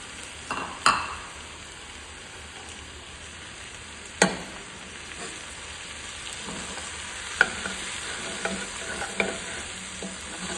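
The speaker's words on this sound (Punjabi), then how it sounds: "ਇਹਨੂੰ ਚੰਗੀ ਤਰ੍ਹਾਂ ਨਾਲ ਮਸਾਲੇ ਵਿੱਚ ਮਿਕਸ ਕਰ ਦੇਣਾ" Crumbled paneer frying with spices in a pan, a steady soft sizzle running throughout under a few sharp scrapes and clinks of a spoon as it is stirred, with no talking.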